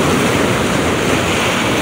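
Big sea waves churn and wash continuously during a fishing trip on the water, a loud, dense broadband rush with wind buffeting the microphone and no voices.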